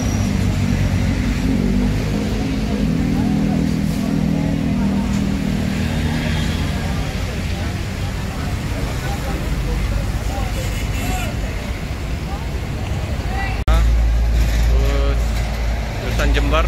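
A full Rosalia Indah bus easing slowly out of a crowded parking lot, its engine a steady low rumble close by, with people talking over it and a louder surge of engine noise near the end.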